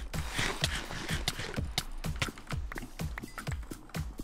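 A horse gallops in Minecraft, its hoofbeats striking in a fast, steady rhythm throughout, close and fairly loud with no talk over them.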